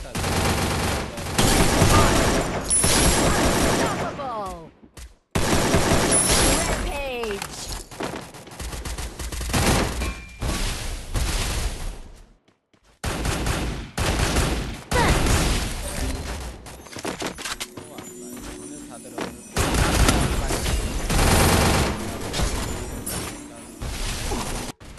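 AK-47 fire in a Free Fire style battle-royale match: dense, loud bursts of automatic gunfire with rapid shots and impacts, broken by brief pauses, with occasional voices mixed in.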